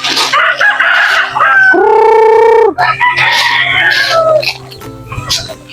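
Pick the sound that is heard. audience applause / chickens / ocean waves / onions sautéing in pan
chickens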